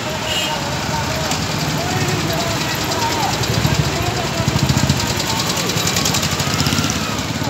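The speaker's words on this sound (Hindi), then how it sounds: "एक तो वड्डा काफला ट्रैक्टर का" A long tractor convoy on the move toward Delhi, its engines running in a steady, dense rumble that fills the scene, with faint voices mixed into the noise.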